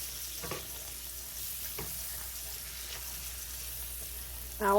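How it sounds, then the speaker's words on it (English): Mushroom chunks fry in butter, a soft steady sizzle with a few quiet spoon strokes as they are stirred, ending on a louder clatter. "Just chunk the mushrooms in there. Kind of mix it around in the butter."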